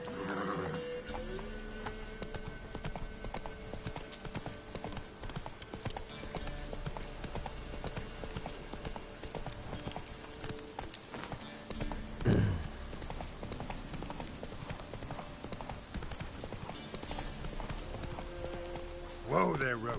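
Roach, the horse in The Witcher 3, clip-clops at a steady galloping rhythm throughout, hooves close and prominent, with a couple of louder snorts or whinnies and occasional voices talking beneath.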